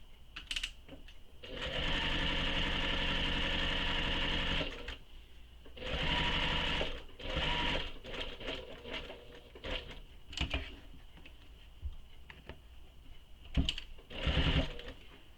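A sewing machine stitches a handbag seam and backstitches at the start, running in several bursts of varying length separated by short pauses, close and clear, with no talking.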